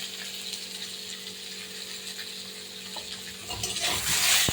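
Elephant apple (chalta) pieces stirred in a pan with salt and turmeric, a soft continuous scraping and faint sizzle with a few clicks, growing slightly louder toward the end, with no talk.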